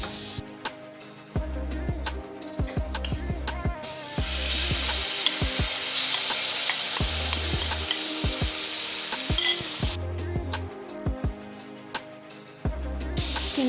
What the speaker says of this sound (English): You saute this until it become brownish, then you can put in our meat